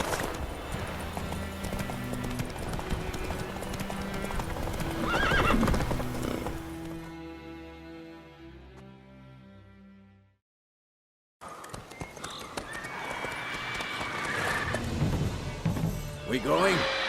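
Hooves of Roach, the horse in The Witcher 3, clip-clop at a gallop with loud neighs and whinnies under speech and music, cut by a brief silence near the end before the hoofbeats and voices resume.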